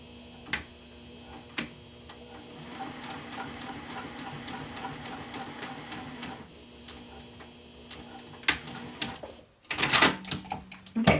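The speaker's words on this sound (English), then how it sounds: "3/4 inch down, you're going to be top stitching." Sewing machine top stitching a bag with a lengthened stitch, running steadily with a soft whirring hum for several seconds, then stopping, with clicks and handling clatter toward the end.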